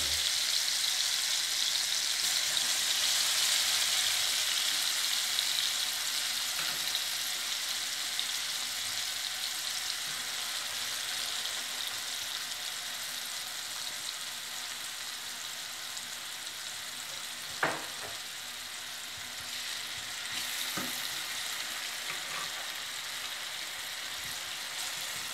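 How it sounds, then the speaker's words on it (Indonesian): Melinjo mushrooms fry in a pan with a steady, faint hiss of oil, continuous throughout with a couple of brief scrape or clink sounds partway through. "tinggal digoreng nih masukkan"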